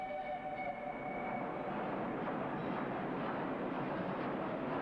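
A train runs steadily along a mountain railway line in India, full of tunnels and near the border station of Landi Kotal, its continuous rolling rumble and wheel noise close and loud throughout.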